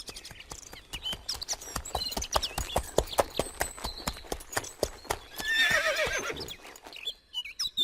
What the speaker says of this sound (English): The king's horses come.